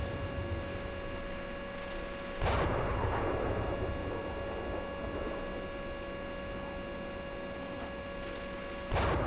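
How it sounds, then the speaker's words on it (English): Gunfire in a military video game: two heavy, booming blasts several seconds apart stand out over a steady, droning background hum, with no talking. "We're taking fire here."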